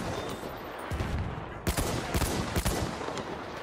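Video game gunfire crackles in rapid bursts from an automatic weapon, several sharp volleys layered over a busy combat background; no voices.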